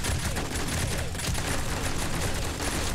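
Dense, nonstop gunfire from a gun in 7 Days to Die during a horde night fills the whole stretch, loud and close, shots blurring into a continuous roaring barrage.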